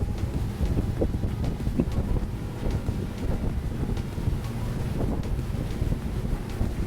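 Steady wind buffeting the microphone aboard a Regal 38 SAV boat as it makes a turn on open water, a continuous loud low rumble with gusty swells and faint water wash, no talking.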